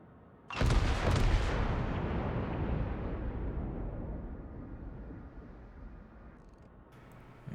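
The Iowa battleship's main guns fire a salvo in World of Warships, a single huge booming blast that rolls off into a long, fading rumble, followed by a faint distant crack.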